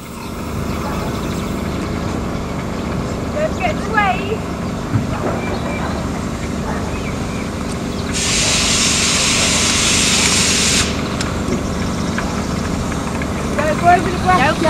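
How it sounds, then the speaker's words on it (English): Small putt-putt engines and power generators run steadily at a coast light railway event, a continuous low mechanical drone with a loud hissing burst in the middle and scattered outdoor background noise. "There's power generators and the little putt-putt engines."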